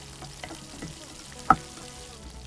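Onions and cashews fry in a pan with a low, continuous sizzle, a few soft stirring scrapes, and one sharp clink of utensil on the pan midway.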